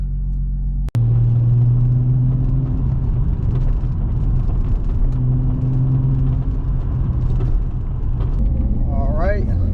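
An Infiniti G35 fitted with Raceland coilovers drives along a street, its engine and road rumble steady and loud from inside the car after a sharp click at the start, with faint voices at times.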